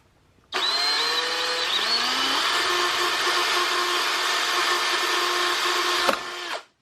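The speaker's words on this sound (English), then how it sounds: "I'm gonna go drill it." A power drill boring a hole in a solar garage battery bank build, a steady loud whine starting abruptly, running continuously for about five seconds with a slight pitch shift, then cutting off.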